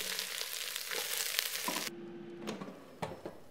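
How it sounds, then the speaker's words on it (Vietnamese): Vegetables sautéing in oil in a pot for a French brown stock, a steady close sizzle throughout with a few clinks and stirring knocks near the end. "Giờ thì bắc cái nồi lên, cho vào miếng dầu rồi xào rau củ."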